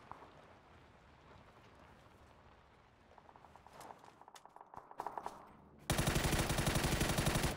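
Gunfire in the battle royale shooter PUBG: scattered distant shots that grow into nearer clustered bursts, then a sudden loud, sustained stretch of automatic fire with no one talking.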